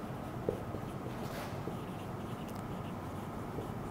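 Chalk or marker writing math terms on a classroom board, a steady dense scratching texture running continuously at moderate level with a faint tap near the start and no talk.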